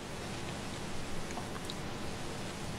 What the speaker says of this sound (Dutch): En het regent hier al de hele dag.